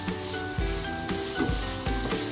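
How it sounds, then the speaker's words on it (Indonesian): Boiled green beans stirred with spices in a hot pan: a steady close sizzle with repeated scraping stir strokes about every half second, no voices. "Ini langsung diaduk aja buncisnya"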